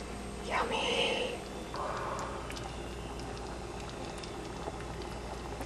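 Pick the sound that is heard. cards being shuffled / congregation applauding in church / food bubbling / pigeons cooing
food bubbling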